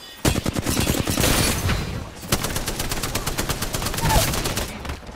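Sniper and other gunfire in the Apex Legends video game, with rapid strings of loud shots and crackling bursts that continue almost without a break.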